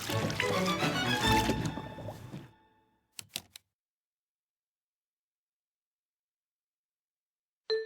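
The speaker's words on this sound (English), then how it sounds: "As you plunge it down, it pushes all the air out, and then as you pull it back up, it sucks water up through the clothes" Clothes sloshing in water under a plunger make a close, busy burst of splashing and gurgling for a couple of seconds, followed by silence with a few faint knocks.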